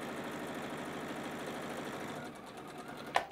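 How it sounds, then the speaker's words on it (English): A sewing machine stitches along a drawn line on a batik quilt block, running with a fast, even mechanical whir that eases off near the end before a brief sharp click. "we're gonna now sew down that same drawn line"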